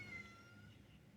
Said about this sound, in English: And that's the cat.